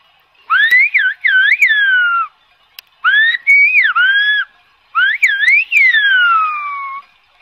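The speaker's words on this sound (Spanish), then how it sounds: "still uses silbo to round up his goats on La Gomera" A herdsman on La Gomera whistles in Silbo Gomero, the island's whistled language, to round up goats: three loud, close phrases of rising and falling piercing whistles separated by short pauses.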